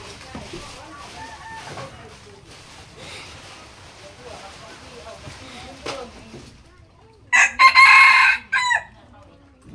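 In a Mekong riverside village in Laos, a rooster lets out one loud, close crow near the end, after a stretch of people talking over background noise.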